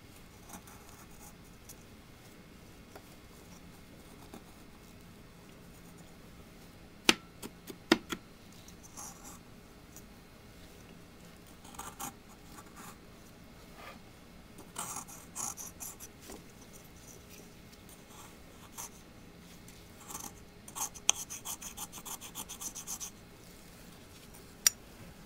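Sodium acetate crystals ground with a small metal spatula in a petri dish give quiet, intermittent scraping and gritty rasps, with scattered sharp ticks and denser bursts of scratching over a faint background, and no talk.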